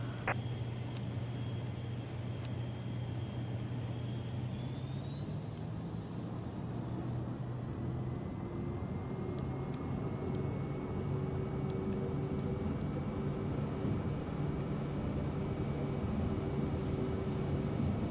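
A jet airliner taking off in a flight simulator game: a loud, steady engine roar that climbs in pitch as it spools up, with whining tones rising over a constant rush, and no one talking.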